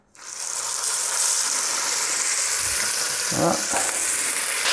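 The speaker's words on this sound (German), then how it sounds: "Und jetzt brate ich mir das Fleisch an" Beef pieces hit a hot pan and erupt into a loud, steady sizzle for a slow-braised beef pot, with a brief spoken word near the start and a few scraping stirs.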